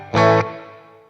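A Sonicake Pocketmaster room reverb is set on a short, bright, sustained tone. A brief tail of reflections follows it and fades over about a second.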